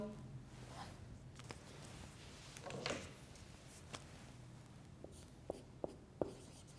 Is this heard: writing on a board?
yes